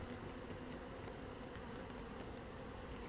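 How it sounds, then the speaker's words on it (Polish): Honeybees in a hive buzz as a steady, dense drone during queen introduction, continuous and fairly close with no talking. "masz od razu buczenie pszczół, wentylację na maksa"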